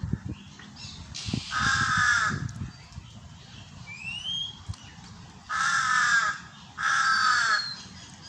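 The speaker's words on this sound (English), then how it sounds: "It's nice to hear the crow again" A crow caws outdoors in a park, several loud harsh calls in separate groups with pauses between, fairly close, over faint low background noise and a few thumps.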